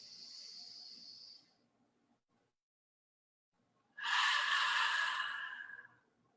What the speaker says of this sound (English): Breathe in. Let it go.